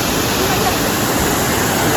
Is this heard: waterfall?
yes